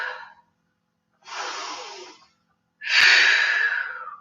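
Three slow, deep breaths taken during a yoga chair pose, each a broad airy rush lasting about a second, separated by silent pauses, the last one loudest and close up.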